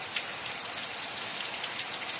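Steady monsoon rain falls in a calm, even wash, a dense continuous hiss of drops with no voices over it.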